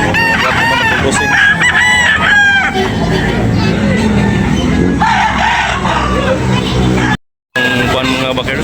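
Roosters crowing repeatedly at a busy chicken expo and sale in Tabunok, Talisay, close and loud over constant crowd chatter and clucking, with nearby people talking.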